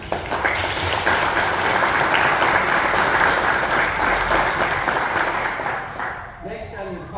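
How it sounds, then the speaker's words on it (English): Full room applause at a county fiscal court meeting, dense sustained clapping that holds loud for about six seconds before tapering off, with a voice entering at the end. "Let's give them a round of applause."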